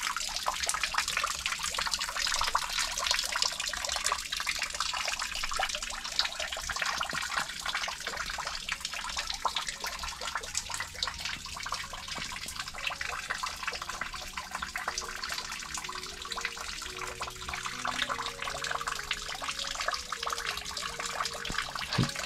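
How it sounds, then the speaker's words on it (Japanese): Water falls continuously at a small waterfall used for ascetic training at a Kyoto shrine, a steady close hiss and splash with no talking. "修行のための滝でしょうか。"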